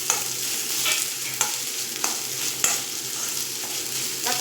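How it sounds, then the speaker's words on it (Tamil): A chopped medium-size tomato sautéing in a pan with ginger-garlic paste for a potato and green pea masiyal: a steady sizzle broken by sharp spatula scrapes and clicks roughly every half second, close by and with no talk. "தக்காளி சேர்த்துட்டு நல்லா வதக்கிட்டுருங்க."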